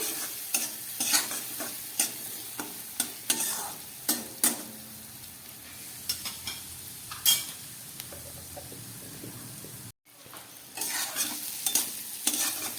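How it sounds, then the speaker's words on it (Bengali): Potato with turmeric and salt sizzles in hot oil while a utensil stirs and scrapes the pan in repeated sharp strokes, with a brief gap near the end. "আলুটাকে একটু ভেজে নিচ্ছি"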